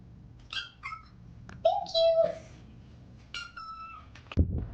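A large cat meows several times up close, with short calls and one longer drawn-out meow, while a person talks briefly between the calls.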